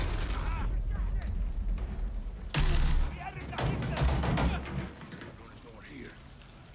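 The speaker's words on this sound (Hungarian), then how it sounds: "Iszonyat hangjuk van a lövéseknek." Gunfire from a shooter video game, bursts of booming shots and rattling volleys sounding loud and dense in the middle, with quieter game ambience around them and voices talking at points.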